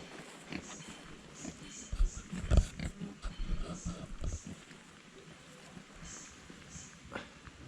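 Pigs grunting and snorting in a pigsty in Sa Pa, northern Vietnam, scattered irregular grunts at moderate distance with low background noise.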